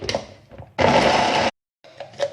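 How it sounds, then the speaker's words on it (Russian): A kitchen blender chops onion for meatball mince in one loud, steady whir of about three-quarters of a second, cutting off sharply, with quieter kitchen handling sounds before and after. "Я буду измельчать в блендере."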